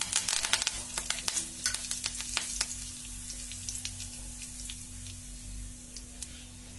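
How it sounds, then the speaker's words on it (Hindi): Mustard seeds and curry leaves sizzle in hot oil for a semolina breakfast dish, a dense crackle with sharp popping bursts early that thins to a softer, steady hiss. "राई के दाने को डाल लेती हूँ और 2-4 करी पत्ता डाल लेती हूँ।"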